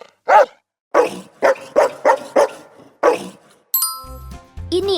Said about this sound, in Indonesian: Anjing itu gonggong buat jaga hewan-hewan di peternakan.